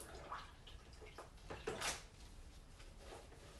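A flat mop is washed in a squeeze bucket, with quiet splashing, sloshing water and plastic knocks heard close and soft, no voices.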